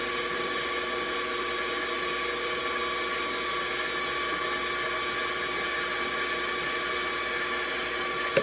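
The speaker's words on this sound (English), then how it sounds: "you want to beat for about a minute or so until the egg yolks get nice and airy" Electric mixer beating egg yolks with orange juice for a sponge cake, a steady, loud, even motor whir held throughout without talk.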